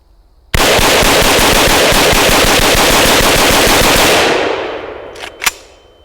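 A Krebs Custom AK rifle loaded with gummy bears fires one loud, sustained full-auto burst of rapid shots lasting about four seconds, then a fading echo and a couple of brief mechanical clicks.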